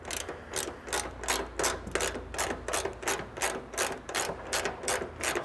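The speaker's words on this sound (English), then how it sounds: "that leaves you just enough room to get to your bottom bolt still with your ratchet and socket" A ratchet and socket turning a bolt on a Toyota 4Runner hood hinge, rapid rhythmic clicking in even bursts of about two per second, close and clear with no talking.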